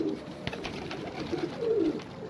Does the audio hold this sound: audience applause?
no